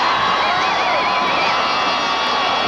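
Football stadium crowd at the end of a Nebraska Cornhuskers versus Oklahoma Sooners game, a dense, loud roar of cheering with whistles rising above it, continuous throughout.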